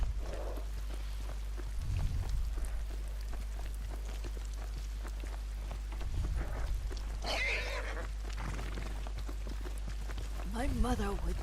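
A horse in the Ghost of Tsushima video game whinnies while hooves clop and rain patters steadily, with a low constant hum underneath and a final neigh rising near the end.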